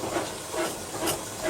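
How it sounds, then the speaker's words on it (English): Steady, soft hiss of steam escaping on a Western steam locomotive as steam is applied, a continuous airy rush with slight swells and no voices. "Right, we put the steam on, not too much because we don't want the wheels to slip."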